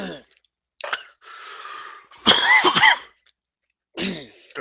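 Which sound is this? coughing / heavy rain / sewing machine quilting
coughing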